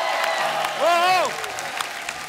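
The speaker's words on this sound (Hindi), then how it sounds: "जोरदार तालियां एक बार तमन्ना के लिए।" Studio audience applauding on a televised Hindi comedy show, a steady crowd of clapping with cheering and a host's voice rising above it.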